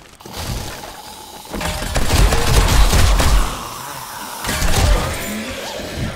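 Turrets in 7 Days to Die (Darkness Falls mod, construction site) fire in loud, dense bursts of rapid gunfire with crashing impacts, swelling and easing in two waves, no talk.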